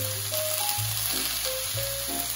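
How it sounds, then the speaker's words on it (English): Ingredients sautéing in a pan, a soft continuous sizzle under a low hum, with faint tonal whistles drifting in and out over a couple of seconds. "All right, we'll saute these for about 10 minutes or so."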